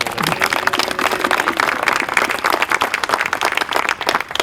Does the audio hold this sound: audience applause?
yes